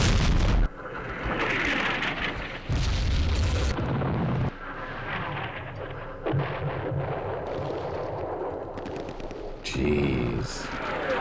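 Heavy artillery strikes in the Campaign Series Vietnam war game, set at Dien Bien Phu, come as a series of loud booming blasts and rumbling eruptions that fill the stretch, with brief gaps between impacts.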